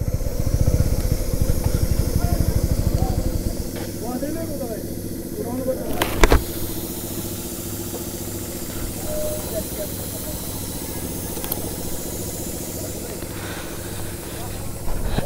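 Compressed air hisses loudly into a motorcycle tyre at a roadside repair stop, then settles into a steadier, softer hiss with a brief sharp burst partway through. Voices talk nearby.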